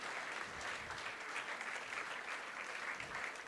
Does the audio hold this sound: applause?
yes